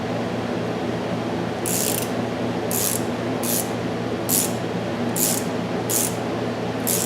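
A ratchet tightens a 6mm grease fitting on an axle U-joint of a 4th-gen Ram 2500, giving about seven short, crisp clicking bursts at an uneven pace over a steady low background hum.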